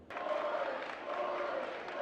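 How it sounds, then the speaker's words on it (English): Weatherford student section chanting in unison at a high school basketball game, a steady, loud crowd roar that holds for the whole span. "Weatherford student section is chanting boring"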